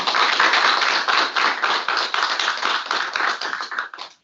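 Audience at an aviation advisory committee public meeting applauds a speaker, a dense burst of clapping filling the room that holds steady before tapering off.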